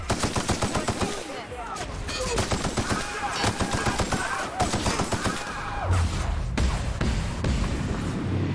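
Rapid bursts of weapon fire in The Outer Worlds, a sci-fi shooter game, crackling repeatedly and loudly over eight seconds with a dense, busy game soundscape around the shots.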